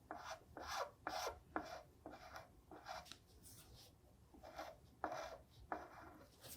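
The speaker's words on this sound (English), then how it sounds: "I'll turn my attention to scraping down the plug. I'm gonna start with one of the mini ultimate scrapers" Repeated rasping strokes of a mini scraper shaving down a wooden plug in a guitar headstock, close and dry, in quick bursts with short pauses between them.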